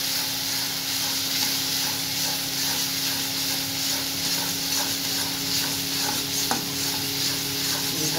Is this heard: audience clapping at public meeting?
no